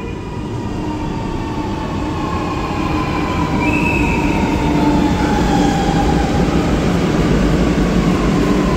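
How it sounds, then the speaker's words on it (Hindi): A Lucknow metro train pulls into the station with a steady, loud rumble, thin wheel squeals riding over the roar and the noise building slightly as the train draws closer. "अपनी मेट्रो आ गई है"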